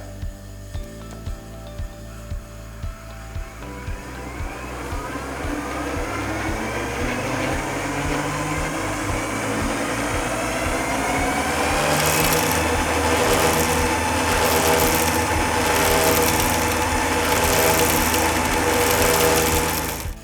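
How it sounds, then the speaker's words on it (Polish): A Hurricane fiber optic microcable blowing machine starts up: a few rhythmic clicks and knocks give way to a steady, loud mechanical whir and hum that keeps running, with some pulsing airy hiss near the end. "Odpalę teraz maszynę, aby zobaczyć jak funkcjonuje."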